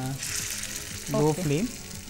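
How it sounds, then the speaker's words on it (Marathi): Egg-bound patties shallow frying in oil on a tawa over a medium flame give a steady soft sizzle, with a brief voice rising over it midway. "आता हे आपण तव्यामध्ये सरळ ठेवत जायचे आणि शॅलो फ्राय करून घ्यायचे"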